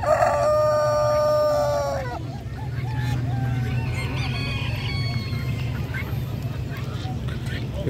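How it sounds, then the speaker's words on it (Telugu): A rooster crows loudly and close at an animal market in Kuwait, followed by steady clucking of chickens and a busy crowd hubbub. "రకరకాల పుంజులు,"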